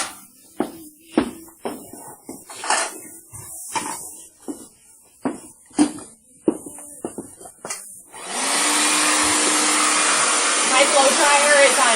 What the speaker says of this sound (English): My blow dryer is on high and it's on warm heat.